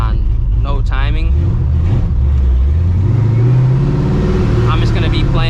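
Cammed, procharged 1999 Ford Mustang GT V8 revving hard up close, its pitch sweeping steadily upward through a loud sustained pull as someone talks over it.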